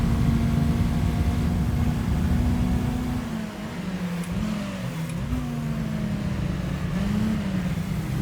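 Toyota Trueno AE86 engine in Gran Turismo 3 A-Spec during a Clubman Cup drive, a steady rev that dips briefly and climbs again with shifts, moderately loud and with no voices.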